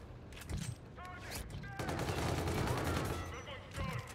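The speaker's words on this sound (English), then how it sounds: "they're shooting at me" Gunfire in Call of Duty: Infinite Warfare multiplayer, dense bursts of automatic shots layered over one another, loud and continuous with brief voices mixed in.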